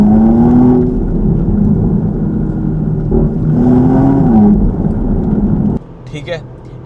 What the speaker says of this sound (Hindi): हम स्पोर्ट मोड पे आए, हल्का सा एग्जॉस्ट नोट बढ़ा,